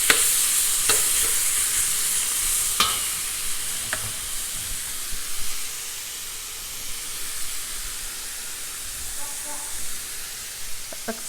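Beef chunks for shaking beef searing in a hot pan, a steady broadband sizzle and hiss running throughout with a few sharp pops and spatters, fairly close and continuous.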